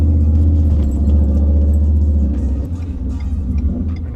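A Whipple-supercharged Ford F150 pickup with 373 gears pulls hard, its engine a loud, deep sustained rumble heard from close by, the drone easing slightly toward the end.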